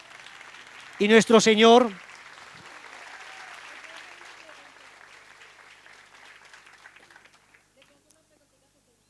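A church talk audience bursts into loud, dense applause for about a second, close and full, after a voice speaks briefly; then a long quiet room tone follows.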